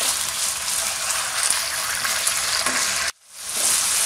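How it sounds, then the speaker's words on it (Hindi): Julienned chicken breast fries in a pan with a loud, steady sizzle and crackle, broken by one abrupt dropout near the end before the frying noise swells back up, with no voices. "अब हम चिकन को इतना पकाएंगे कि इसका कलर चेंज हो जाए और पानी इसका ड्राई हो जाए।"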